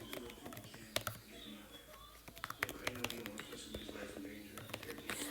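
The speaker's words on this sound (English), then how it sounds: "I can type all my stuff" Fingers tap out a sticky note on an iPad's on-screen keyboard, a quiet irregular patter of soft taps growing busier toward the end, heard close and faint.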